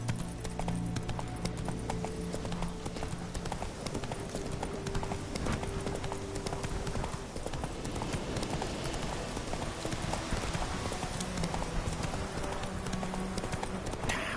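Roach the horse's hooves clip-clopping in Witcher 3 on PS4, a steady rapid rhythm of close hoof strikes running throughout the clip with no pause, over a faint ambient game background.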